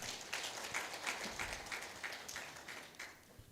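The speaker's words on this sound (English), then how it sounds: "Can we give him another round of applause?" An audience at a diaspora convention applauding, a thin scattering of claps with a few distinct rhythmic hand claps, faint and distant, tapering off toward the end.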